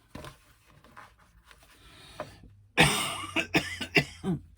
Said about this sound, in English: Excuse this cough, it's post-COVID cough and I just cannot shake it.